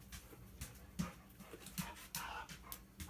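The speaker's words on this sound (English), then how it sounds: "What's all that noise about, dog?" A dog whimpers and pants close by in short, uneven bursts, quiet overall with soft rustling between breaths.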